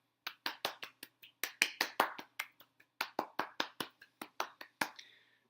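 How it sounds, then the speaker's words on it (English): A single pair of hands claps alone in a fast, steady rhythm for classroom winners, faint and dry, with about twenty crisp claps and no talking. "we're going to give our classroom winners a round of applause"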